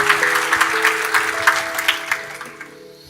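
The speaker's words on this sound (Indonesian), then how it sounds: "boleh tepuk tangan dengan tulus" A church congregation applauds during a sermon, a dense, fairly loud wash of many hands clapping with sustained keyboard tones underneath. It softens and falls away in the final moments.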